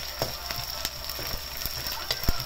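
Meat dropped into a pan of well-cooked frying onions, a steady close sizzle with faint stirring clicks running throughout.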